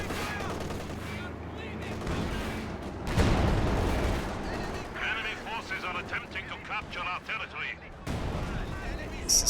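Artillery barrage during a competitive multiplayer video game match, repeated booming shell impacts and gunfire bursts, a heavy cluster of blasts near the middle, mixed with game sounds and faint background voices.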